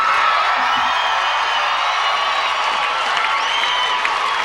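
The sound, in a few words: large crowd cheering and applauding at Perth Olympic parade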